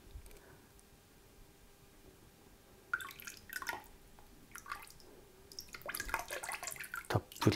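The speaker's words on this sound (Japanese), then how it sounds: "たっぷりと流しがけしていきます。" Liquid white slip is poured generously over a pottery piece. After a few near-silent seconds, soft splashes and trickles come in uneven bursts, then a fuller pouring and dripping sound that grows busier toward the end.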